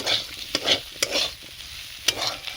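Prawns, potato and teasel gourd are stir-fried in spices, giving a continuous frying hiss with repeated sharp clacks and scrapes from a stirring spoon against the pan. No one speaks.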